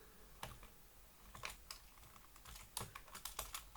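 Keys clacking on a computer keyboard as system-call handler code for the Nachos teaching OS is entered, a quiet irregular run of separate taps clustering into quick bursts near the end, close and with no voice.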